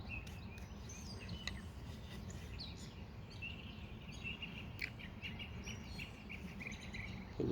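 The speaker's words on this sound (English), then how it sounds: "Can you hear them birds?" Several birds chirp and tweet in short bursts against a quiet, steady background hum, with no one speaking.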